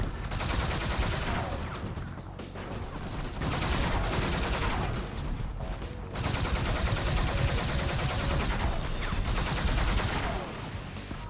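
Vehicle-mounted guns fire in long, sustained machine-gun bursts in SpyHunter 2, loud and continuous with brief gaps between volleys, over the roar of the driving game.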